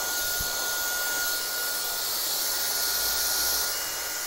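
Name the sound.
hair dryer at medium speed, high heat, styling hair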